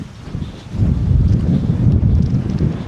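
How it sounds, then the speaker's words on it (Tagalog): Strong wind buffeting a microphone on the sea at low tide off an island in Concepcion, Iloilo, a loud continuous low roar that surges and holds for the whole stretch with no voices. "Dinig ba sa audio yung hangin?"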